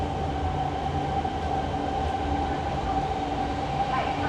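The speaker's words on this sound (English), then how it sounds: "Is this a train?" A Hanoi Metro Line 2 train arrives at a station, rumbling steadily nearby, a continuous low roar of rail noise with a faint tonal whine and no voices.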